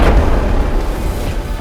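Security forces blast a militants' hideout cave in a forest, giving a loud, deep boom that rolls out and rumbles at length as it slowly fades.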